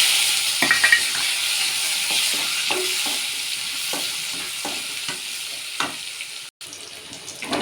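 Onions fry in a pan with hing, dried Byadagi chillies and curry leaves for sambar, giving a constant close sizzle broken by repeated scraping stirs of a spatula.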